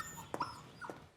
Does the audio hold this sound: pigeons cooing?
no